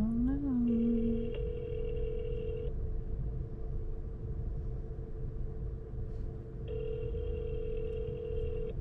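A phone call rings unanswered through a handset, two long electronic ring tones separated by a quiet gap, with brief rising tones at the start and low road rumble underneath.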